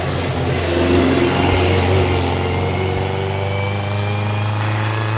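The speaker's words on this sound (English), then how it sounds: "very angry little car, lots and lots of noise" A loud, rasping vintage race car engine accelerating close by at a hill climb, a harsh continuous roar with rising tones as it pulls away.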